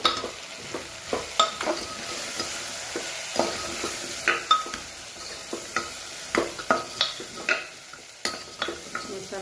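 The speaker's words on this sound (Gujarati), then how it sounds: "લાલ મરચું પાવડર, સાથે સાથે હળદર કરી સરસ મિક્સ કરી લઈએ." Spices being stirred in a hot pan on a stove, red chilli powder and turmeric mixed in: repeated scraping strokes of a spoon against the pan over a soft oil sizzle, steady and close, with no talk.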